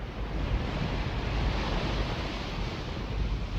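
A huge tsunami wave of water crashes against the coast as a dense, continuous roar of surf and wind-like rushing that stays loud throughout.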